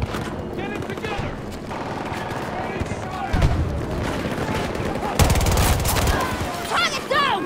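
Heavy gunfire in a Battlefield 2042 Conquest match: sustained volleys and rapid automatic bursts mixed with shouted soldier callouts and battlefield chatter, loud and close throughout.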